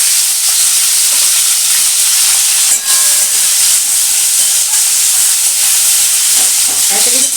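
Onions sizzle loudly in hot oil for an egg and potato curry, a steady bright frying hiss with occasional crackles and a stirring scrape close to the pan.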